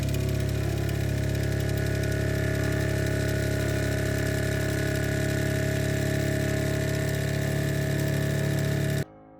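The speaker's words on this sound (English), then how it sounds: "For the final round, the kit is shaken as hard as possible for 20 seconds." An Immortal Justice Gundam model kit is shaken as hard as possible in a turbo shake test, making a dense, steady mechanical buzzing rattle that cuts off abruptly at the end.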